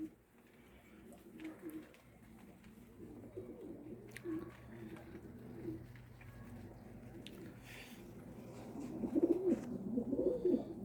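Pigeons cooing at a coop, repeated low coos near and fairly loud over a steady background hum, growing stronger toward the end, with a few faint chirps.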